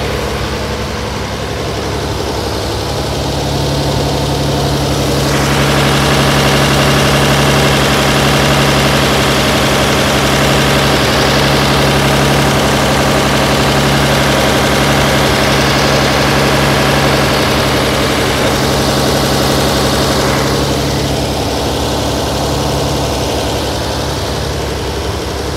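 A 1938 Zephyr engine fitted with three-deuce carburetors runs at a high idle, a loud, steady droning hum with a low rumble that swells slightly in the middle and holds throughout, with no talk.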